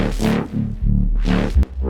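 A gritty, squelchy synth bass plays on its own in short, filtered notes with a sweeping, wah-like tone and a deep low end.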